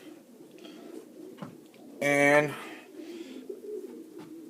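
Racing pigeons in a loft give one short, throaty coo, clear but brief, over a soft background murmur and a little nearby talk.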